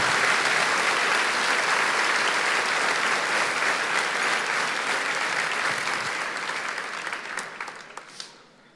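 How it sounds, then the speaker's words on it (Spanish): Loud, sustained applause from a church congregation fills the space steadily for several seconds, then tapers off at the end. "Denle un aplauso fuerte"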